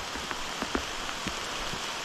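Heavy rain pours steadily onto a backcountry campsite in Pisgah National Forest, a dense even hiss with scattered louder drops striking nearby surfaces, close and continuous with no voices.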